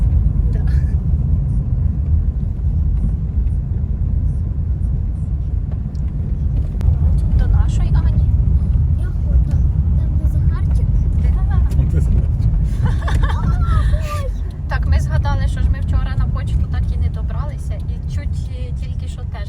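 An Audi drives along a road, heard from inside as a steady low engine and road rumble throughout, with people talking over it.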